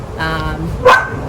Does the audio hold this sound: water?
no